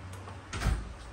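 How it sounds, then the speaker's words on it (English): A door shut in a garage or workshop during a truck suspension install, one solid thud near the middle after quiet room noise. "you gotta close that door"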